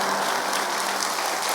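A church congregation claps at a praise and testimony service, a dense, even wash of applause with no voices over it.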